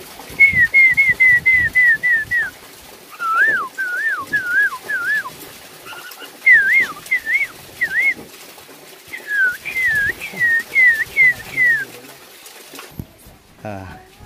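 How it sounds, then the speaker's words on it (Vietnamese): A hill myna gives repeated clear whistled calls in short bursts beside a small pond in a mountain village, with faint background sounds of people and activity. "Đây là con chim khiếu."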